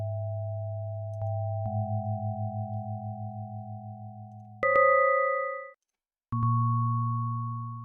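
Sonified EEG signal rendered as synthetic electronic tones: steady layered pitches, a rapidly pulsing low segment, higher tones that switch abruptly, a brief silence, then a new sustained tone pair, with no talking.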